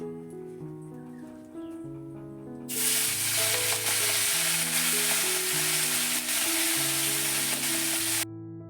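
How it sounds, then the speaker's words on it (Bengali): Mourala fish hit a hot frying pan and burst into a loud, dense sizzle that starts abruptly, holds steady for several seconds, then cuts off, with music playing underneath and alone before it begins. "যে মোরলা মাছগুলো এনেছিল তো সেটাই বেছে ধুয়ে রেখেছিলাম আর এখন ভেজে নিচ্ছি"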